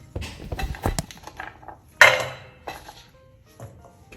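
Knife cutting sweet potato into thick fries on a board: a few scattered close knocks and scrapes, with one sharper clack partway through and quiet gaps between them.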